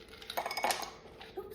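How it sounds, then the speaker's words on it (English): Ice cubes dropping into a glass for a pink and blue spring soda drink, a few quick clinks and clatters close by, light and brief. "Next, you're gonna add a couple of cubes of ice."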